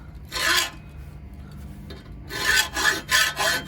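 Hacksaw cutting through steel rebar, close and loud, one short rasping stroke followed by a pause, then a run of four quick back-and-forth strokes.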